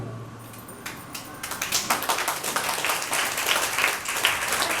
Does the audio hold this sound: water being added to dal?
no